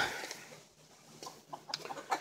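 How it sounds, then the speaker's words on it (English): Soft clucking from chickens resting in the shade on a hot day in a backyard yard, a few short calls scattered over a couple of seconds, fairly faint against a hissy outdoor background. "all the chickens are in the shade"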